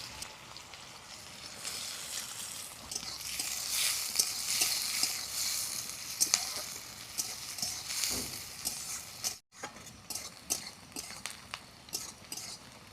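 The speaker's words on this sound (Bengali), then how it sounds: "এবারে তেলের মধ্যে দিয়ে দিব কুচানো পেঁয়াজ" Chopped onion sizzles loudly in hot oil with bay leaves and dried red chillies in a pan. The frying hiss holds steady and close throughout, and stirring clinks and scrapes come through now and then.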